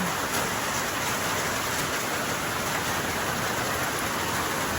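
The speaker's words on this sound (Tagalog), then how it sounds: "sobrang lakas na ulan" Heavy rain pours steadily and loudly, a dense constant hiss with no pauses and no voices.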